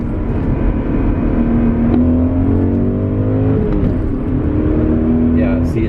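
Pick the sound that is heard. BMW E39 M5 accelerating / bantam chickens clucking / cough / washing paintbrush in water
BMW E39 M5 accelerating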